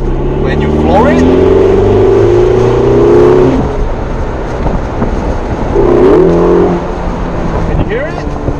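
A 2016 Ferrari California T engine revs hard twice at full throttle, climbing in pitch with each surge, loud and close, then dropping back to a rough idle between pulls.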